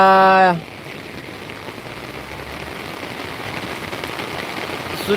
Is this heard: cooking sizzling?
no